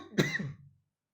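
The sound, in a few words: coughing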